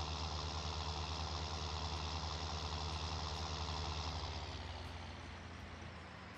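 A tractor engine idling in a farming simulator game, a steady dense mechanical drone with a low throb that softens and thins toward the end as the engine winds down.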